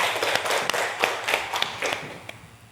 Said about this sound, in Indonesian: Tepuk tangan untuk Revan dan Justin.